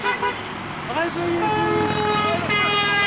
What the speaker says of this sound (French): ça klaxonne sur l'autoroute encore